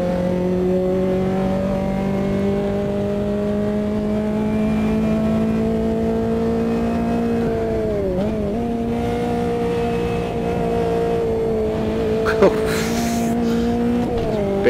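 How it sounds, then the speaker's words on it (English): Racing car in the Automobilista 2 game, with a steady loud engine drone that dips and surges briefly as it downshifts, blips once more later and sustains its high pitch. A voice talks over it. "get ready for the downshift blip"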